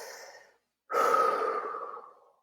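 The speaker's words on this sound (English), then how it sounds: "take a big, deep breath" A slow, deep breath heard close up, with a soft airy intake that fades out, a short pause, then a longer, fuller exhale that trails off.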